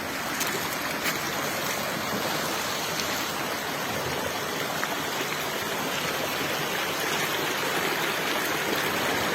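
Spring water from the Ağdere source near Erkenek, Malatya, flows steadily in a broad, continuous rushing wash, close and fairly loud, with no talking.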